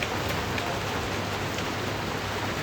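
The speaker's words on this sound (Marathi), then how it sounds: "पाऊस पडतोय खूप, एकदम जबरदस्त" Steady, dense rain hiss fills the whole stretch, a continuous broadband wash with scattered drop patter and no voices.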